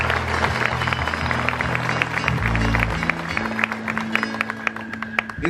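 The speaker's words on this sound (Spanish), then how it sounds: "Un aplauso de bienvenida para todos ustedes." Welcome applause from a church congregation at an outdoor Mass, a dense crowd clapping steadily and fairly close, with a brief voice or cheer mixed in near the middle.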